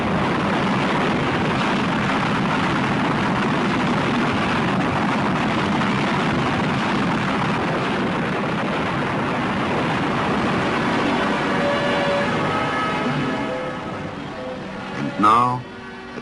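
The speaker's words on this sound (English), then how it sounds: "All engines are running. We have liftoff." Rocket engines roar at liftoff from a 1960s American launch, a loud, dense broadband rumble that holds steady for most of the time before easing off near the end, where a brief higher tone cuts in.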